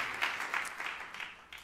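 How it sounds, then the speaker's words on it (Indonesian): Brief, soft applause from a church congregation, a short patter of clapping hands, moderately distant and faint. "Tepuk tangan yang paling meriah buat Tuhan."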